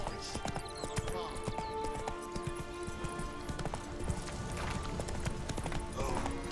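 Roach, the horse in The Witcher 3, gallops in steady rapid hoofbeats under game music and ambience, with voices heard over the clip-clop.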